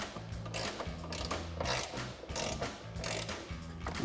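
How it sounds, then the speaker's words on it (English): Repeated clicking of an 18mm ratchet wrench tightening a front control arm nut on a 2011-2019 rear-wheel-drive Dodge Charger, steady bursts of ratchet strokes with a mechanical rattle, close and moderately loud. "So now we'll come back in with our 18mm ratchet wrench."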